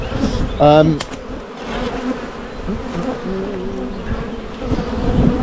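Honey bees buzz continuously around a hive at a UK apiary, a dense near-and-far drone with a brief voice early on.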